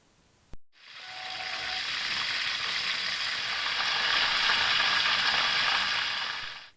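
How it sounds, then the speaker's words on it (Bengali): Chicken roast pieces fry in hot oil with a steady, loud sizzle after a brief sharp click, holding an even hiss for several seconds with no voices. "আমি রোস্টের পিসগুলো কিছুটা লাল লাল করে ভেজে নিচ্ছি"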